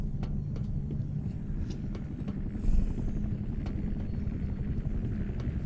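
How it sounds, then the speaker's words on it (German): Helicopter in the video game F.E.A.R. 2: a steady low rotor rumble throughout with faint rhythmic chopping, plus a brief louder burst midway, moderately near. "Da ist ein verdammter Hubschrauber, der mich tötet."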